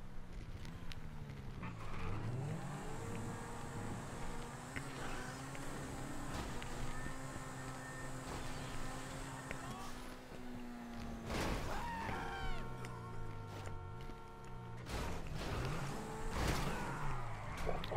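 Cars go by on a road, their engines rising and falling in tone as several pass one after another at moderate distance.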